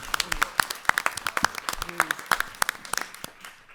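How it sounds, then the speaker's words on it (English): Audience applause breaks out at a school committee meeting, a run of scattered, fairly sparse claps close by that taper off after a few seconds. "You can clap."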